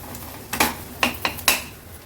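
A ladle clanks against a pot while mixing and smashing masala for an Agri Koli style fish curry. Four or five sharp metallic knocks come close together, loud and near, over a quiet background.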